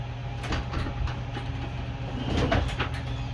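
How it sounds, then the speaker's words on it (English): Doors on a garage or shed where a dead Craftsman push mower sits are swung open, giving off a rattling, scraping clatter over a steady low hum; no one speaks. "I'm gonna open the doors up"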